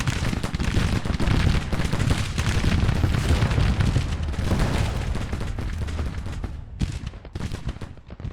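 Union and Confederate troops firing in a Grand Tactician: The Civil War battle, a dense, continuous crackle of massed musketry with booming volleys, loud and sustained before thinning out near the end.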